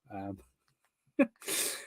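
A single sharp, close sneeze lands between bits of speech, followed by a breathy, hissing exhale as a voice carries on around it.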